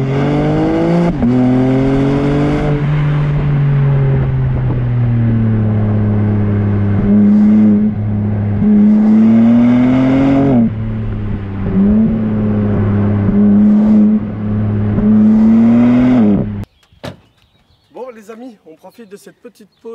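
BMW M4 Competition engine from inside the cabin, a loud droning exhaust note rising and falling through gear changes and revs, continuous, then cutting off near the end, with talk mixed in.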